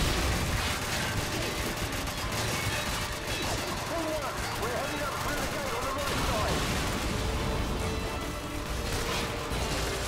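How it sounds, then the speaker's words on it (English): Grenade blast and gunfire in the Call of Duty 4: Modern Warfare campaign on PS3, as a dense, continuous clatter of shots and mechanical battle noise running steadily throughout, with voices talking over it. "Oh, grenade."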